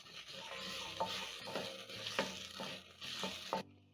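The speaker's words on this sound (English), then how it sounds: "I'm going to saute the garlic and ginger for around 30 seconds as the onions brown" Crushed garlic and ginger sauté alongside browning onions in a pan for a Kenyan githeri, a steady broadband sizzle running throughout with repeated scraping stir strokes about every half second, close and fairly quiet, no talking.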